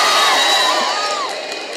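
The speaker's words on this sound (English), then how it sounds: "I'm sensing the pressure of the crowd, all youth of the country" A large crowd of students on a college campus cheering and whooping loudly, with shrill shouts rising over a sustained roar that fades slightly toward the end.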